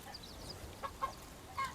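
Farm chickens in the video game Bellwright give a few soft, scattered clucks, faint and somewhat distant over quiet background noise.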